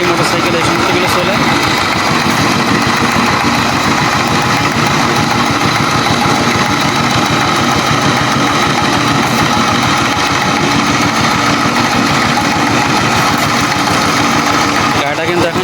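A vehicle loaded with washed jute idles on a rural road, a loud, steady, rattling mid-pitched engine hum running unbroken throughout, with voices talking over it.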